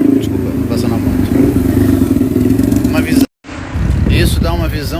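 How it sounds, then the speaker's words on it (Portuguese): A motorcycle passes close by, its steady low engine drone running loudly beneath a man's ongoing speech for about three seconds before the sound cuts off abruptly and the talking continues. "passando a moto"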